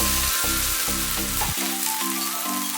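Tomato dosa batter sizzling loudly on a hot pan as it is flipped, a steady dense crackle with a brief scrape partway through.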